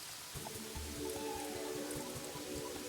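Steady rain falls in the game Terraria, a continuous soft patter of drops on the ground with background music tones playing over it, no talking.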